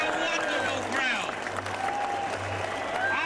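A big crowd at a Leave rally outside Parliament applauds and cheers, a dense, sustained wash of clapping and voices filling the open air, with a speaker at a microphone talking over it.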